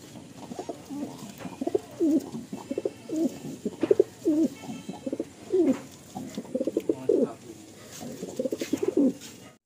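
Madrasi and Andhra pigeons coo after release, giving repeated low, throaty coos close by in a steady, overlapping flurry.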